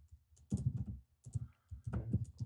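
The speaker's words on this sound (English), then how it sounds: "Ooh, I don't like typing on this thing." Tapping and typing on an iPad touchscreen, close soft thuds in two quick bursts separated by short pauses, with no talk.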